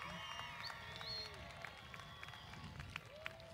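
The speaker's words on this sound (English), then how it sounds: "Graduates, please applaud your team, your familia, your network," Faint applause from graduates in a large commencement ceremony crowd, a soft, distant patter of clapping that continues steadily under light background voices and cheering.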